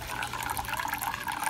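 Water from a hose flows steadily into a Dutch bucket hydroponic system, a continuous close splashing and gurgling with no talk.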